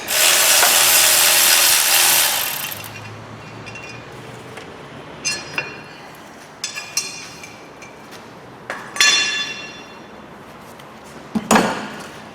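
Wrench cracking loose a 13mm bolt on the oil sump of a Fiat Grande Punto: a loud broadband scrape for the first two seconds, then several sharp metallic clicks and knocks spaced a few seconds apart, close by with no talk.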